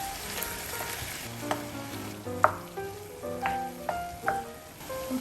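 Ground lamb fries and sizzles steadily in a pan while it is stirred, with scraping stir strokes and a few sharper clinks rising over the constant hiss at close range.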